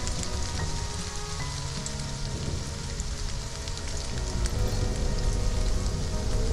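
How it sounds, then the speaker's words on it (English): In the video game Stranded: Alien Dawn, rain patters steadily on surfaces, a dense crackly shower that builds slightly louder toward the end, with no voices. "got incoming rain"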